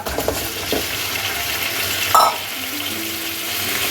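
Beef with onions, cloves, black and green cardamom, cinnamon and star anise fries in a pot, a steady sizzle with scraping stirs and one louder clatter partway through.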